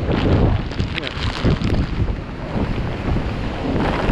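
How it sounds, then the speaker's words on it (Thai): Strong wind roars over the Mekong river, buffeting the microphone in a loud, continuous rush with gusty swells and no clear voices. "ลมมันเป็นลมบนนะไม่ใช่ลมไม่ใช่ลมพื้นนะครับ"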